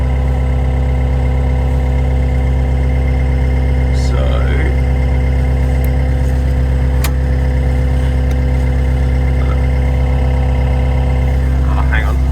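A steady idling engine drones loudly throughout, its pitch lifting and dipping slightly as the revs are raised and lowered, with no talking.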